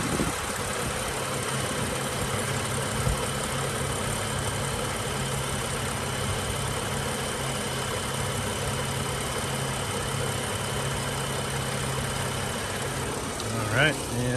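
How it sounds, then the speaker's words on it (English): A 2015 BMW 640xi Gran Coupe sits idling with a steady, low, even engine hum that holds throughout at close range, with a brief bump near the end. "I'm just gonna stand here for a moment so you can listen to it in idle."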